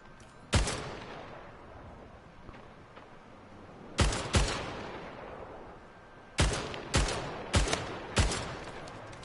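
Gunfire from the Splitgate video game: sharp, loud shots in short clusters, a single report, then a quick pair, then a string of four spaced bursts, each ringing out with a decaying tail. No one speaks.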